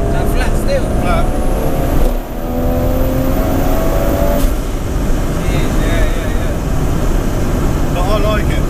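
A 844 bhp Toyota Supra's turbocharged engine pulls hard at full throttle in fourth gear, a loud, continuous drone with a gear-change dip midway, heard from inside the car while people talk over it.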